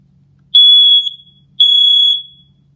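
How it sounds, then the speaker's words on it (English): Two loud, piercing electronic beeps from a First Alert 7010 photoelectric smoke alarm during a battery test, each about half a second long, separated by a short pause in an otherwise quiet room. "We should hear a couple beeps that make sure that the battery is operating correctly in the device."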